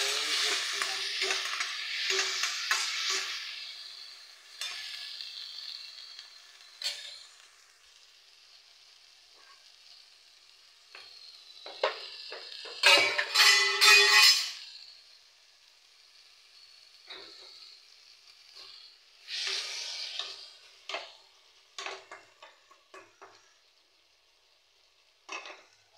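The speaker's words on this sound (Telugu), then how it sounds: "టమోటా బాగా వేగిందండి" Tomato and coriander frying in a pan for tomato rasam, with bursts of spoon-stirring and scraping over a soft sizzle; a loud stirring flurry comes midway, then quieter intermittent clinks.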